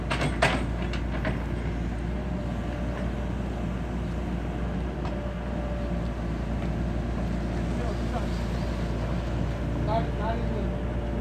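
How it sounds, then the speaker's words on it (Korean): A Yanmar engine in a Doosan DX55W wheeled excavator, a 2011 machine, runs in a steady low idle-like hum with faint clanks and knocks over the top, while someone talks. "얀마 장비예요. 소리가 굉장히 좋습니다."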